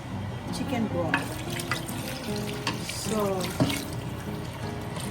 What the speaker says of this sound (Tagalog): Maglalagay po tayo ng tubig kasi kulang